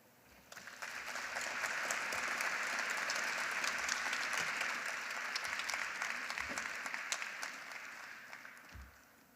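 Audience applause at a downtown partnership breakfast after a keynote speech, a full sustained round of clapping that swells, holds for several seconds and tapers off.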